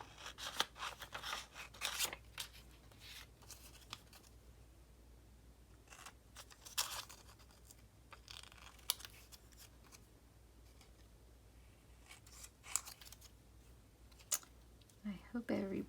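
Scissors snip through vellum paper while Valentine's tags are crafted, giving a series of short, crisp cuts in irregular bursts close to the listener over a faint steady hum.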